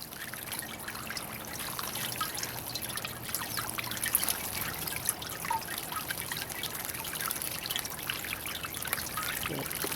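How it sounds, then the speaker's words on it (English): Water trickles steadily over the rim of a homemade bird bath into a small pool below, a continuous close, even splashing and dribbling with no talk. "the water flows over the side into here"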